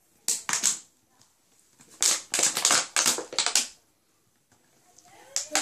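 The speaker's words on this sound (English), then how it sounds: "you're gonna cut the paper off." Scissors or a blade snip and crinkle through the paper label on a plastic water bottle, coming in short crackly bursts separated by pauses, close and fairly loud with no talking.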